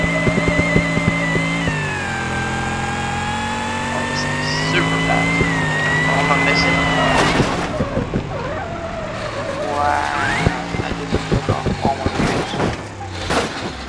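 In BeamNG.Drive, a drag car with a huge back tire revs its engine in a loud, sustained roar with rising and falling pitch, joined later by clattering bumps while a person talks.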